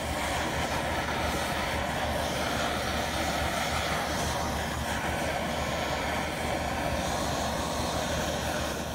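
A torch flame roars on an OSP Sidewinder clutch spider, a loud, steady, broadband rushing that fills the whole stretch without a break.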